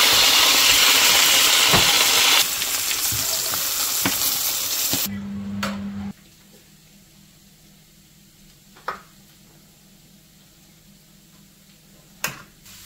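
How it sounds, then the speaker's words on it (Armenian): Eggplant and other vegetables frying in a pan give a loud, close sizzle with stirring scrapes for about six seconds, then the hiss drops away to near quiet broken by a couple of sharp utensil knocks. "այսպես ավելի ճիշտ կլինի, երբ որ բանջարեղենը առաջինը տապակեք"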